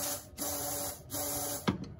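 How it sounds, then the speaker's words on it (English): Compressed air from an air compressor hisses through a simple boost controller on a 2G DSM car, a steady near spray with two brief breaks and a short louder burst near the end. "we should again hear air bypassing"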